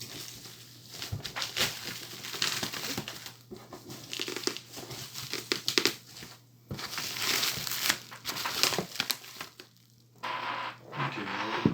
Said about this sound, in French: on va retirer le papier